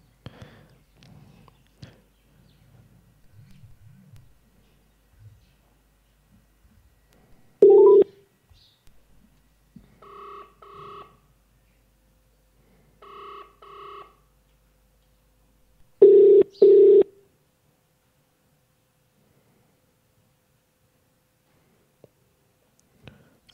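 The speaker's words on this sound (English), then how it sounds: "let me call back" A telephone on a live radio call-in show dials a caller back: short bursts of keypad tones, then a couple of ringback tones, close and clear with quiet gaps between, followed by a brief hum of talk.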